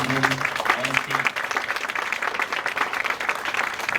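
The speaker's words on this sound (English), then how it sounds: "Please give them a round of applause and welcome them on stage." Audience applause greets presenters arriving on stage at a floral design seminar, a steady dense clatter of many hands filling the room, with a brief voice or tone audible at the very start.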